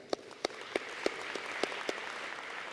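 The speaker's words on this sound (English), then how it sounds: "Please give them a round of applause" Audience applause at a chamber of commerce teacher-of-the-year event, a sparse scatter of soft claps with a few sharper ones standing out, fairly quiet, with no talk over it.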